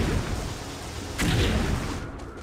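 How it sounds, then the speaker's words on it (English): Fireworks explode in the video game Metroid: Other M, a single muffled boom rising briefly above steady, dense game ambience. "Yeah, fireworks."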